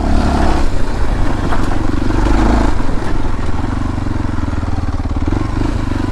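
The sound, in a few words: motor scooter riding uphill toward viewpoint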